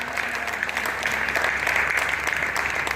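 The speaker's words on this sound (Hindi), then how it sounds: "तो एक बार पूरा सदन तालियां उठाए" A full hall at a Hindi poetry recital claps hard and continuously, a thick, sustained wash of applause with a low hum beneath it and no speech over it.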